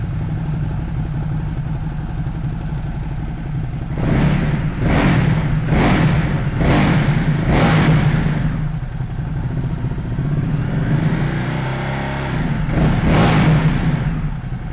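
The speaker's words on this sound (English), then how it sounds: "Let's fire this one up and have a listen." A Ducati Supersport 950 engine idles steadily, then is revved in a series of sharp bursts, roughly five quick blips followed by a pause and one more, loud and close with no talking.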